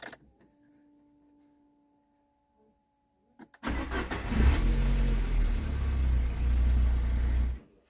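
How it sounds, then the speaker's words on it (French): A camper van engine cranks and starts after a quiet stretch, then settles into a loud, steady running rumble before cutting off at the end. "je vais démarrer et puis on va contrôler le niveau d'huile"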